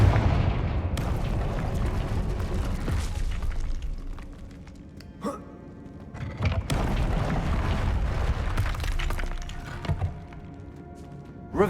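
Confringo fire blast spell bursting in Hogwarts Legacy, booming explosive impacts with crackling debris over a rumbling game background, repeated through the scene with a short lull in the middle.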